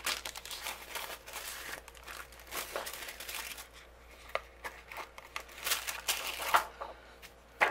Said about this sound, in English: I'm going to trim down a piece of acetate to fit behind the window